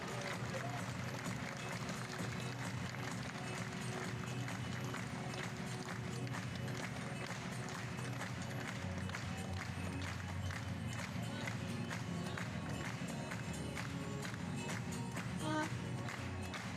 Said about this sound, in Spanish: Por un fuertísimo aplauso para lo más importante